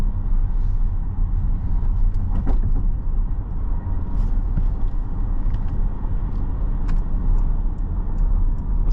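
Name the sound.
2019 Porsche Cayenne E-Hybrid driving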